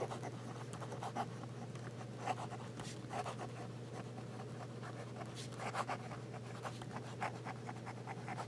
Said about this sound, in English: We'll do some fast writing.